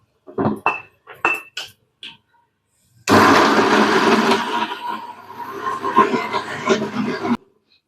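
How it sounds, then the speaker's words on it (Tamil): A handful of sharp metallic clinks and knocks come first, then a mixer grinder roars loudly for about four seconds, grinding a roasted gram mixture into a paste before cutting off abruptly. "நல்லா பேஸ்ட்டாக அரைச்சி எடுத்துக்கிடணும்."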